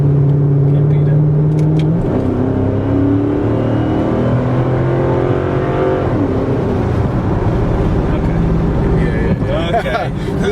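Chrysler 300C with a Hemi V8 accelerating on the road, a strong engine drone that climbs in pitch, shifts around two seconds in, then pulls again, with a voice talking over it inside the car.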